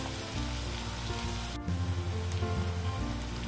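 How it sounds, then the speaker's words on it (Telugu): Sliced onions frying in oil in a kadai, a continuous soft hiss and crackle with low background hum, steady and fairly quiet throughout. "ఆనియన్స్ ఆయిల్లో ఫ్రై చేసుకుందాం."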